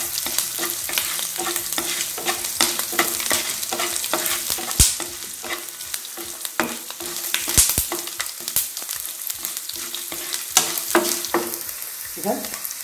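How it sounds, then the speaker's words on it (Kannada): Coriander seeds fry in a pan for red chutney, giving a close, continuous sizzle with frequent scraping stirs and a few sharp clinks of the spoon against the pan. "ಧನಿಯಾ ಹಾಕ್ಕೊಳ್ಳೋಣ, ಸ್ವಲ್ಪ ಹಸಿ ವಾಸನೆ ಹೋಗಿ ಕೆಂಪಾಗೋದು ಬೇಡ."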